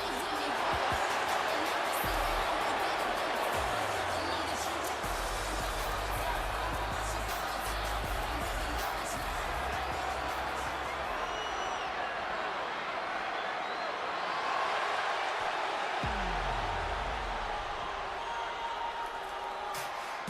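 A large video game wrestling arena crowd in WWE 2K20 roars and cheers continuously during a women's entrance, loud and dense, with rhythmic stomping or chanting swells throughout.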